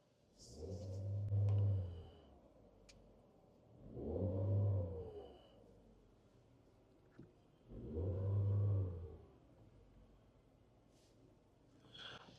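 A Tata Sierra petrol engine revved in three separate rising and falling bursts, each swelling to a loud, deep roar before dropping back to a quiet idle, heard from close by with no talking.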